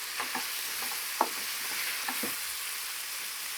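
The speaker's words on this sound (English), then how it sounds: "And I'm going to mix this all up now." Dried dill, chives and tomato paste sizzle in a pan on a powerful gas stove, a continuous bright frying hiss with a few soft stirring scrapes and taps, no talking.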